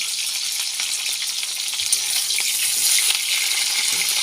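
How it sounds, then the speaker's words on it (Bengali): Cauliflower pieces fry in oil in a pan, a steady loud hiss and crackle of sizzling that holds throughout, close up with no talking. "কড়ার মধ্যে ফুলকপিগুলো দিয়ে দিয়েছি, লাল লাল করে ভেজে নেব"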